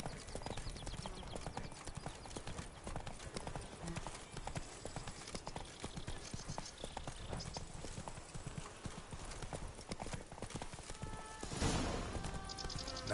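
Roach the horse in The Witcher 3 trots along with steady clip-clopping hooves under a game soundscape, the hoofbeats continuous and moderately close, with a brief brighter burst near the end.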